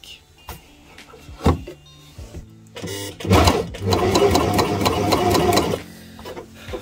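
An Elna Covermax five-thread coverstitch machine starts with a few short clicks, then runs in a steady, loud mechanical whir with rapid rhythmic needle ticks for about two and a half seconds before stopping.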